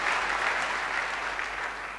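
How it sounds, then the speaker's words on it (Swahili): A church congregation applauding during a sermon, a sustained wash of clapping from many hands, steady and fairly loud for the whole stretch. "Tumpikie Bwana makofi"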